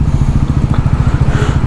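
A Bajaj NS400Z motorcycle riding through the city, a loud close pulsing engine thrum with a steady rapid beat throughout, no talk.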